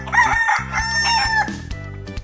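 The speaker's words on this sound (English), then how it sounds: "And look, there's some chickens." A rooster crows repeatedly with hens clucking among farm animals, the calls loud and close, overlapping in a busy barnyard chorus.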